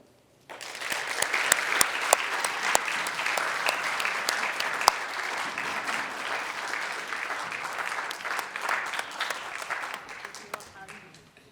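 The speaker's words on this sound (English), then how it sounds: "could you please give a round of applause to bring to the podium Dean Bloomberg." Sustained applause from a dinner audience at a gratitude gala as a dean is welcomed to the podium, a dense wash of many hands with a few sharp individual claps standing out, steady for about ten seconds before fading.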